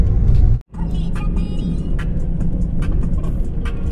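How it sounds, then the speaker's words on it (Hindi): A small Maruti Alto hatchback drives through heavy, foggy winter traffic in Shimla, its steady engine and road rumble close inside the car with passing vehicles around, briefly cut near the start. "शिमला शहर में अभी ट्रैफिक बहुत ही ज्यादा है।"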